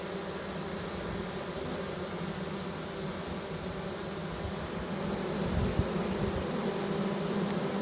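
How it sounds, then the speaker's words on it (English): A honeybee colony hums with a dense, steady buzz as the bees fan hard, the drone swelling slightly louder toward the end, with no voices. "Hear how loud that colony got?"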